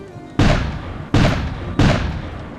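A cannon sound effect: three loud, evenly spaced booming shots, each with a short decaying tail, and no talk over them.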